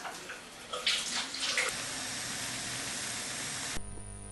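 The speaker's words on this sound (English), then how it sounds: "wash your hands with soap and water." Water runs steadily from a tap while hands are washed with soap, a continuous close hiss with a few brief splashes, cutting off abruptly near the end.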